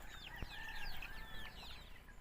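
Half Rhode Island Red, half native crossbreed chickens feeding on organic fermented feed cluck and chirp in a soft, busy chorus, with one sharp tap partway through.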